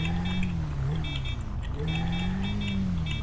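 Car horn in GTA 5 roleplay, a steady sustained honk running through nearly the whole stretch alongside engine and game ambience, with a slight dip partway through.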